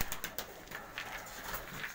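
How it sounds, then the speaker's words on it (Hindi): Pigeon cooing at a breeder's loft, soft repeated low coos in short bursts, faint and close with light background rustle. "पूरा कबूतर दिखाइएगा।"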